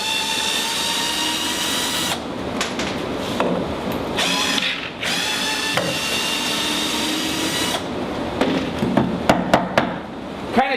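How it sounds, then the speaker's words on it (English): A power drill runs in reverse, backing a screw out of cheap wood on a CNC router table, with a whining motor, several brief pauses and a run of rapid clicking bursts near the end. "Take our drill, reverse it,"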